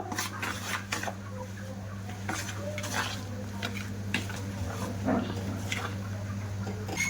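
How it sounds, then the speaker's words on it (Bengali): Semolina soaked with warm milk is mixed in a bowl, a continuous wet stirring with soft utensil scrapes and light clinks against the bowl, close by over a low steady hum. "দিয়ে এবার সুজিটা বেশ ভালো করে মিশিয়ে নেব"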